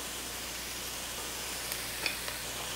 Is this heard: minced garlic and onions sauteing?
yes